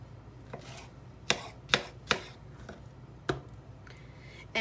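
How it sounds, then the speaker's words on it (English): A knife chops fresh peaches on a board while they are cut up for chutney: about five crisp, close cuts in an uneven rhythm over quiet room noise, with no talking. "cutting up my peaches"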